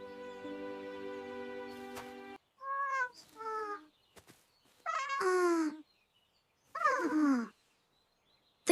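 A scared cat in a park gives several loud, drawn-out wailing yowls with breaks between them, preceded by a steady tonal hum, all close and alone without talk.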